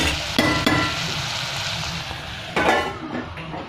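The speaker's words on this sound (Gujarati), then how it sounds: "આને હવે આપણે તળવા દઈશું" Food fries in a pan with a steady loud sizzle, close by, with a few scraping stir sounds and clanks of a utensil on the pan.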